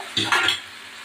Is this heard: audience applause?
no